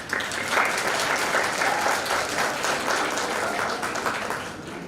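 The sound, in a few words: graduates applauding in a hall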